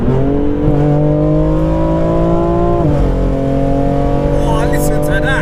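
A BMW M4 engine revs hard and drops pitch through a downshift, a loud throaty exhaust roar with a brief blip midway, close to the microphone.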